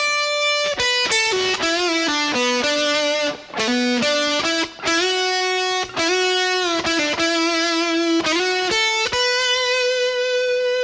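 Distorted electric guitar plays a line from a guitar solo at a slow pace, sustained singing notes with bends and slides, loud and alone.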